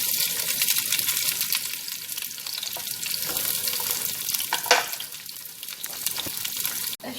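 Two large chopped onions fry in oil in a pot, giving a loud, close, continuous sizzling hiss with occasional stirring scrapes and a sharp clack near the end, and no talking.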